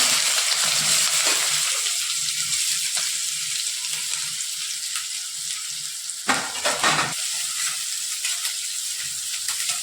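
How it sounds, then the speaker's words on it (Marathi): Chopped onion hisses in hot oil with mustard seeds and cumin, a steady close sizzle, briefly broken by a louder stir and scrape partway through. "कांदा आपल्याला तेलामध्ये परतून घ्यायचा आहे।"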